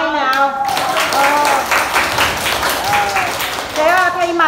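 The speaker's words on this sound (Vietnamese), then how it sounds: "Cho cô giáo một tràng pháo tay nào." A secondary school class in Yen Bac, Duy Tien, Ha Nam, Vietnam, claps steadily for their teacher in the classroom. The applause is continuous and fairly close, with voices calling out on top.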